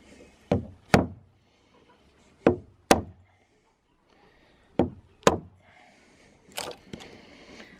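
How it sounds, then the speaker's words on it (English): A hand chisel is struck into green hemlock timber, giving sharp, close, woody knocks that come in spaced pairs, about eight hits in all, with quiet pauses between them. "This is hemlock, so it chisels very easily"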